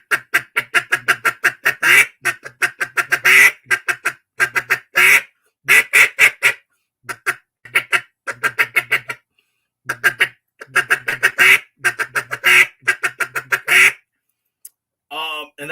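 A hand-blown duck call imitates ducks on water with rapid clucks and quacks, delivered in short bursts and choppy rolling runs separated by brief pauses, loud and close with no other sound behind it.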